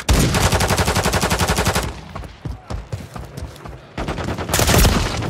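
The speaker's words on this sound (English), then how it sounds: "Taking effective fire!" Automatic gunfire in the shooter Call of Duty, loud and near, with a sustained rapid burst, a stretch of scattered single shots, then another heavy burst.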